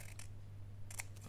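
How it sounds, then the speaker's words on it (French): Scissors making two quick snips through a small piece of paper being trimmed, close and crisp over a low steady hum. "je vais juste couper ce qui dépasse."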